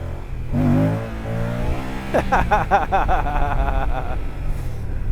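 A Moto Guzzi Stelvio adventure motorcycle ridden on a rough road, its engine revving up close and rising in pitch, with a rider laughing over it.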